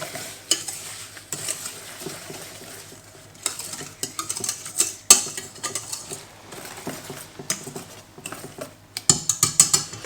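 Panko breadcrumbs are worked by hand or spoon into a raw meatball mixture in a bowl, producing close, soft squishing and patting sounds in irregular bursts, with occasional light knocks against the bowl and no voices.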